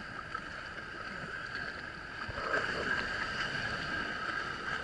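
Motorboats out on Tamarin Bay, Mauritius, chasing a pod of wild dolphins; a steady engine drone over water and wind noise swells a little louder midway, with no speech.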